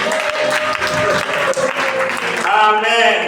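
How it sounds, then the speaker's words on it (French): A church congregation applauds and cheers throughout a worship service, a dense, loud, steady wash of clapping with voices mixed in, swelling slightly near the end. "Acclame Jésus."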